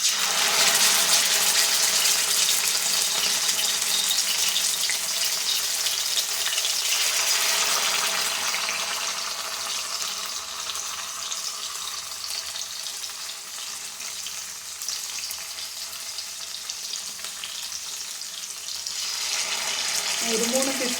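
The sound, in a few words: fish frying in hot oil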